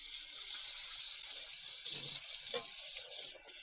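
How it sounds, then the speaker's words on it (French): Cooked dough pieces being drained give a continuous gentle rush of water close by, with a brief splash and gurgle midway before the flow tapers off. "Je vais juste les mettre à égoutter"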